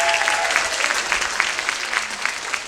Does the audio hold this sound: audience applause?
yes